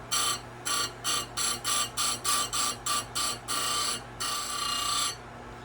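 Simington chainsaw chain grinder grinding square chain, a rapid series of about a dozen short, bright grinding bursts in steady rhythm, ending with two longer passes, close and loud with no talk.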